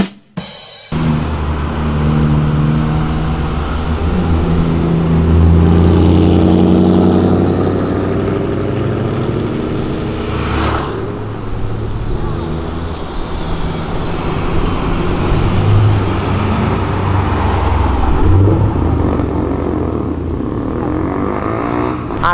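A Porsche and a Ferrari accelerate past on a road, a loud rising engine roar that swells and recedes with shifting pitch, followed by a second engine surge and broad traffic rumble throughout.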